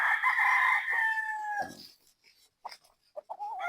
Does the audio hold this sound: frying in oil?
no